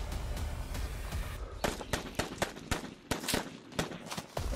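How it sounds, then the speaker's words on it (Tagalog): Sharp gunshot cracks ring out as distant gunfire closes in, a burst of roughly a dozen irregular reports following a stretch of steady background noise, some moderately loud, others fainter. "mga putok-putok pero hindi lang gaano malakas yung putok, pero papalapit dito yung mga putok"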